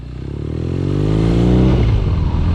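A BMW R nineT boxer twin fitted with an aftermarket muffler, a loud close throaty engine note climbing steadily as the bike accelerates, with no voices.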